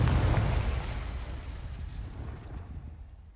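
An explosive Confringo spell goes off in Hogwarts Legacy, a loud booming burst at the start that rolls away into a long decaying rumble, with no talking.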